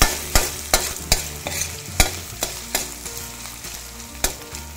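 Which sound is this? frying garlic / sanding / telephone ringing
frying garlic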